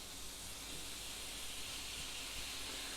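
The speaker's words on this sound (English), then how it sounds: "Hear that sizzle?" A continuous, fairly faint hiss of steaks searing in a hot pan, steady throughout with no talking.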